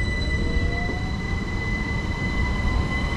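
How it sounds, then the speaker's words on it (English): A Class 375 electric train pulls out of Robertsbridge station toward London Charing Cross, its wheels squealing with steady high-pitched tones over a rolling rumble, heard close and continuous with no talk. "And off goes D2 375s heading off to London Charing Cross from Hastings."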